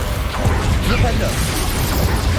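A Flipendo spell is cast in the Hogwarts Legacy video game, a loud whooshing burst with mechanical clattering and cracking impacts over dense combat noise, voices faintly underneath.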